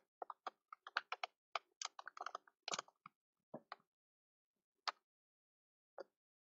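Keys on a computer keyboard are tapped in a quick irregular burst of clicks while a file name is typed, then a few slower isolated keystrokes follow, close and fairly quiet with no talking.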